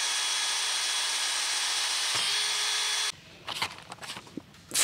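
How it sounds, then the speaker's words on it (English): A power drill runs steadily while boring access holes in a Jeep Wrangler JL trim panel for a tailgate table, its whine holding for about three seconds before stopping and giving way to scattered handling clatter. "I'm just gonna simply drill out these two access points at the top."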